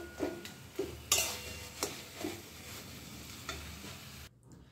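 A soya chunk and prawn mixture stir-fried over raised heat for kofta curry, giving a soft continuous sizzle with a few sharp spatula taps and scrapes before it cuts off abruptly near the end.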